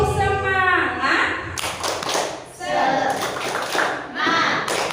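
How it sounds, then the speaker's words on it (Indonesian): A group plays the Indonesian clapping game tepuk semangat as an icebreaker, clapping in rhythmic bursts with taps and thumps, while voices chant and talk over the claps between them. "Kita main tepuk aja ya."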